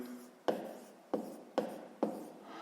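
A pen writes numbers by hand on paper, four short distinct scratching strokes in a steady rhythm, close and fairly quiet, with nobody speaking.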